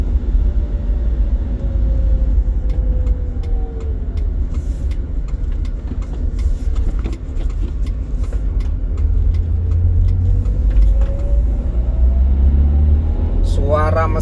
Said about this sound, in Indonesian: Suara mesin juga lebih terdengar ya, lebih terdengar ke kabin.